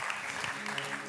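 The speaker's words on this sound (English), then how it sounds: "Come and give them a hand because this is a big deal." A conference audience applauding, dense and continuous clapping from a large crowd in a hall, steady throughout the short burst.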